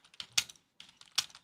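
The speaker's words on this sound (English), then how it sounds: "I'm just typing a message to someone there." Someone types a message on a computer keyboard, two quick bursts of close, crisp key clicks separated by a short pause.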